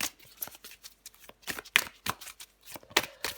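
Tarot cards are shuffled and drawn close up, giving rapid papery riffles and flicks in uneven bursts, with no talking.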